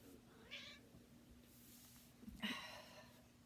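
A needy house cat meows twice indoors, a short cry followed about two seconds later by a longer, louder one, close but fairly soft against a quiet room.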